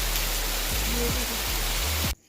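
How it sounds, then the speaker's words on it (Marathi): Steady rain hisses continuously at close range with a low hum underneath, then cuts off abruptly at the end. "हा बघा इथे सुरुवात झालेली आहे पावसाची परत."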